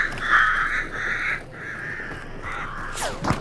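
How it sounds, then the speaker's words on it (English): Crows cawing in a video game, a run of harsh repeated caws loud in the foreground, followed by a brief fluttering rush at the end. "Scare these birds."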